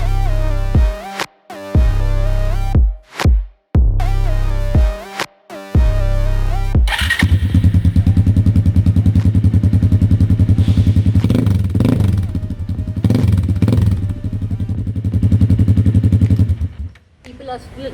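A Pulsar motorcycle modified in Husqvarna style, with a trellis frame, starts after several cranking attempts and settles into a steady, loud idle with a few light throttle blips.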